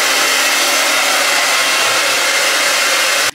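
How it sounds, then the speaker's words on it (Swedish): A hair dryer blows steadily at close range while drying hair, a loud continuous whooshing hiss with no talk, cut off abruptly at the end. "nu så ska jag ta och gå och föna mitt hår i alla fall"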